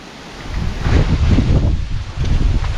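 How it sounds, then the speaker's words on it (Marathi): Strong gusts of stormy wind roar and buffet the microphone in coastal Konkan as the sky darkens before rain, with rustling swelling and easing in loud waves. "वारा बघा काय सुटला आहे"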